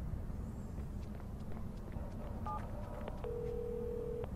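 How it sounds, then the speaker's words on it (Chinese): In-game phone in the video game Watch Dogs: a few short dialing beeps, then one long steady ring tone. A low rumble of background noise and footsteps runs underneath. "电话。"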